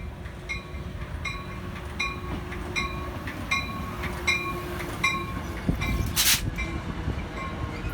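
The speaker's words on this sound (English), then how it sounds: "the prized catch of the day came into view under the bridge, the southbound Amtrak Cascades" Southbound Amtrak Cascades passenger train passing under a bridge, with a converted F40PH cab car leading and P42DC and Siemens SC-44 Charger locomotives pushing. Steady rumble and rhythmic wheel clicks, with a brief sharp squeal or burst near the end.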